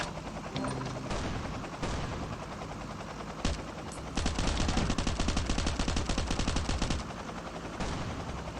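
Rapid automatic gunfire from the survival shooter Last Island of Survival, with bursts of dense, fast shots that peak in a long sustained volley near the middle and sound close and loud over a steady in-game background.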